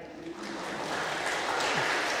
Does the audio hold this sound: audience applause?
yes